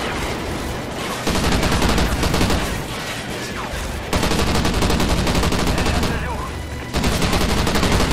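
Gunfire in the video game Call of Duty: Ghosts comes in loud sustained bursts, three long volleys separated by brief lulls, dense and close.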